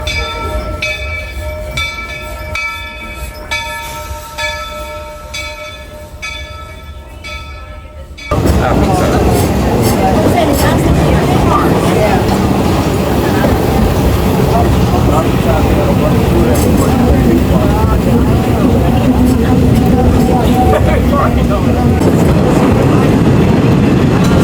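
Magic Kingdom railroad train underway, a steady loud rolling rumble and rattle that starts abruptly partway through after a quieter stretch with a faint tonal hum, continuing unbroken to the end.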